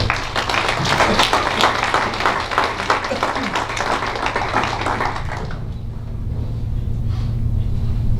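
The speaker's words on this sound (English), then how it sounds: "Once again, a big round of applause for everyone." A crowd at a 2018 high school athletics award ceremony applauds for about five seconds over a steady low hum, then the clapping thins out and a quieter room tone remains.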